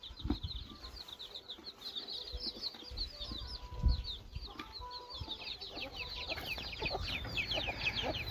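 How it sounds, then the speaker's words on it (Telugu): Colored chicks and hens on a village poultry farm, with steady high peeping and soft clucking, a brief flutter of wings, and a low background murmur throughout. "కలర్ కోడి పిల్లలు చూపించానండి."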